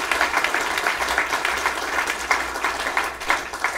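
An audience at a health conference applauds the event's sponsors, a steady wash of many hands clapping, moderately loud and even throughout.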